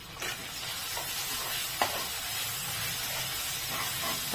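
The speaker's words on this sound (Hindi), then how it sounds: "मसाला इस टाइम पे हमें डाल देना है और इसे भी मसाले को भून के ले लेंगे हम" Ground masala spices fry in hot oil for a prawn and potato dish, giving a steady loud sizzle and hiss with occasional spoon scrapes and clicks as the mix is stirred.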